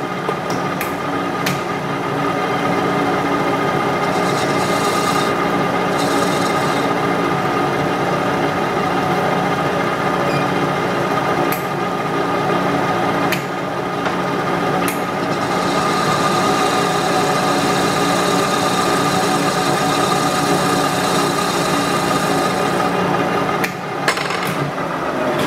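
A Wilton Baby Bullet metal lathe facing off the end of a part gives a steady machine hum with continuous cutting noise, close and fairly loud, with a few brief sharper knocks along the way.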